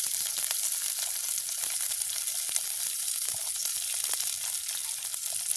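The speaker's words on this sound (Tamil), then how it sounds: "இப்படியே நாங்கள் வெட்டி வச்சிருக்கிற சின்ன வெங்காயத்தையும் போடுவோம் அதோட உள்ளி அதோட பச்சை மிளகாய்" Shallots, garlic and green chilies fry in a pan, an even, bright sizzling hiss that carries on without a break, close and moderately loud, with no talking.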